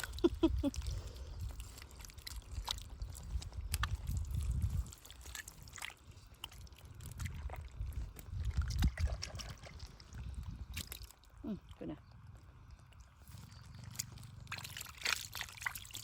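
Water flows and trickles steadily close by at a fishing spot, with sloshing swells and fluctuating splashes throughout.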